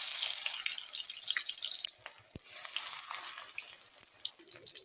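Battered pumpkin flowers crackle and sizzle in hot oil, a steady, moderately loud frying hiss with small popping bursts and no talk over it.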